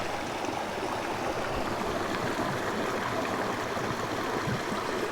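A high-altitude headwater mountain stream in the Smokies flows steadily, a close, continuous rushing and gurgling of water with no pauses.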